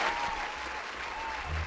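A small group cheers for Mario during a Dodgers baseball show, a brief burst of applause and crowd noise that stays fairly even and moderately loud, with a faint low tone near the end.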